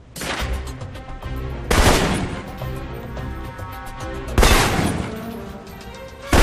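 Assault rifle gunfire in a video game, heard as bursts of loud, sharp shots over dense game sound, with big broadband hits near the start, around two seconds and again near four and a half seconds.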